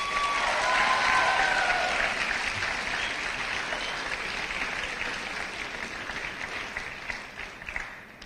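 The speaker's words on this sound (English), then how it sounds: "Graduates, would you please give your family and your supporters, your blood, a rousing round of applause" A large crowd of graduates at an eighth grade graduation ceremony gives a sustained round of applause for their families, dense and loud at first, then gradually thinning toward the end.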